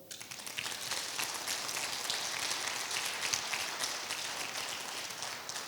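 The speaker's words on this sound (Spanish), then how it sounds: "¿Puede un aplauso al Señor?" A church congregation applauds with continuous, faint, distant clapping that crackles evenly for several seconds, no voices standing out.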